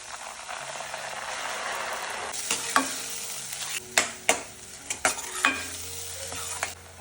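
Onion and masala fry in hot oil for Kolhapuri mutton sukka, with a steady close sizzle and several sharp clinks of a spoon stirring against the pan.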